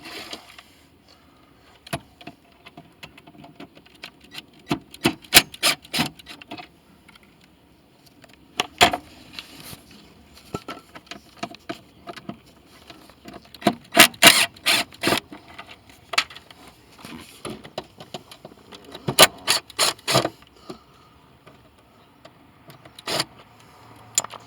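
Screws being worked out of the glove box and surrounding trim inside a vehicle, a series of scattered sharp clicks and scraping bursts, some clustered close together, between quiet stretches.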